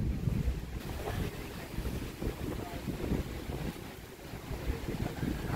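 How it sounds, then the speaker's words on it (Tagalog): Steady outdoor wind gusts buffet the microphone near a hillside church grounds in Tagaytay, a continuous low roar with broadband rustle throughout, fairly loud and unbroken. "sarap ng hangin dito"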